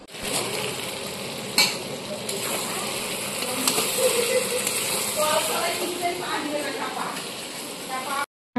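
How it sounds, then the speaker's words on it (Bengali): Mutton sizzles as it fries in a pan, with a utensil stirring and scraping through it. A loud, continuous hiss lasts almost the whole time, with a few sharper stirring knocks. "আর আজকে একটু মাটন হচ্ছে, নিয়ে এলো, ওই রান্না করছি।"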